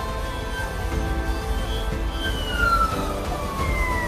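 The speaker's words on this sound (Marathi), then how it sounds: "सायरन वाजला." A dam siren wails steadily at Bhandardara before the spillway gates open. Its pitch rises and falls over a constant low rumble of outdoor noise, and no one speaks.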